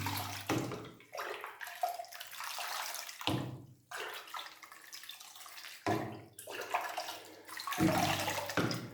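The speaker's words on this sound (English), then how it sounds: "I just water until the roots start to green up a little bit." Hanging orchids, mostly bare-rooted, one with a little moss, are watered in several bursts of splashing, running water separated by short pauses.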